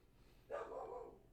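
A single dog bark or short yelp at moderate distance, slightly drawn out, standing alone against quiet background.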